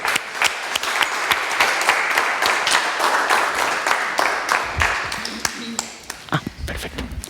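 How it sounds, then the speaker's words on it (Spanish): Audience applauding a performer at a talk on the transformative power of words, dense clapping that fades toward the end, with a few scattered claps and brief murmurs after. "Un fuerte aplauso para Sista Checa"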